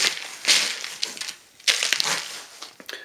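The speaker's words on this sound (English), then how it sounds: "Just going to simply rub this like I would, apply a rub on like a brisket" Hands rub a dry cure onto a cut of meat, brisket-style, giving loud close rustling and crinkling scrapes in uneven bursts with short pauses.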